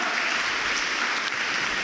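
An audience at a church sermon claps loudly, a dense, even wash of applause lasting a couple of seconds with no voices over it.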